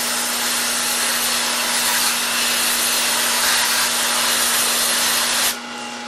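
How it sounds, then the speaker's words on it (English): A compressed-air hose blowing coolant off freshly hard-turned steel bushings, a loud continuous close hiss with a steady tone that drops off abruptly near the end. "Use the air hose over here just to remove some coolant."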